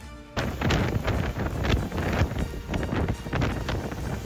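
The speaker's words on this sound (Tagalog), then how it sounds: "malalakas na hangin at ulan dala ng bagyong Uwan ang naranasan" Strong wind and rain from Typhoon Uwan in Baler, Aurora, roaring steadily and close with loud buffeting gusts against the microphone, no voices.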